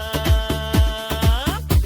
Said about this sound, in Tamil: இல்லை பீட்டோ, அது ஒரு பூனையின் சத்தம்.